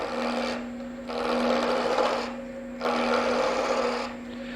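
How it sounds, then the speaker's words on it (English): A 3/8 spindle gouge cuts a door stop blank on a wood lathe, with a steady motor hum under three sustained scraping passes separated by short pauses. "I'm going to use my 3/8 spindle gouge, and I'm just going to start working the end off."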